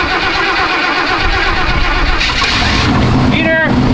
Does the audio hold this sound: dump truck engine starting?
yes